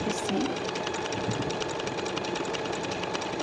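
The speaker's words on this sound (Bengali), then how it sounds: "এখানে হচ্ছে আমি পিকো সেলাইটা দিয়ে নিতেছি।" A sewing machine stitches a picot hem on a garment sleeve, running as a steady, close mechanical whir with a rapid needle rhythm throughout, while a person talks over it.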